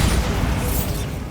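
A Bombarda blasting spell goes off in the Hogwarts Legacy video game, a loud, sustained low rumbling boom with a bright crackling burst on top, fading slightly toward the end.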